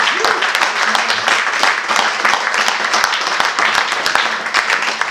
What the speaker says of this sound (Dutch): nog eerst even een daverend applaus voor Gidon Nunes-Vas, trompet en vloer